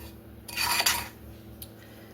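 A spatula scrapes and smears cinnamon roll filling across dough, a short burst of soft rasping friction lasting about half a second, followed by a faint tap, close and otherwise quiet.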